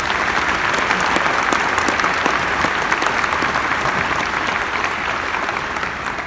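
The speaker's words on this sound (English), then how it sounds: "So one more round of applause for them," Steady, dense applause from a graduation audience for the class of 2021, loud and sustained throughout with no break and no talking over it.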